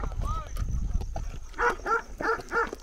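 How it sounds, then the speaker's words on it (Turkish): A shepherd dog barks four times in a quick series at a moderate distance, following a stretch of people talking outdoors. "Çobanın köpeği bizi havlıyor."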